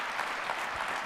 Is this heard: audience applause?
yes